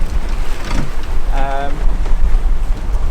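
Sailboat under way in about 15 knots of gusty wind near Old Harry's Rocks, heeling; steady rushing wind and water noise throughout with buffeting on the microphone and a brief voice-like tone midway.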